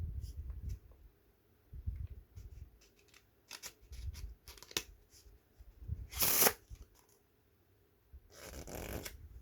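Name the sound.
mixing a deck of playing cards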